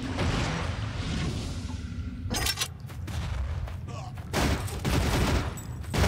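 Weapon fire in the video game NecroVisioN roars in dense, loud bursts and sustained volleys, with brief pauses between barrages.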